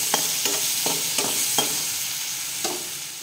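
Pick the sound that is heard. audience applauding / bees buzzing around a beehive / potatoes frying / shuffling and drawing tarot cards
potatoes frying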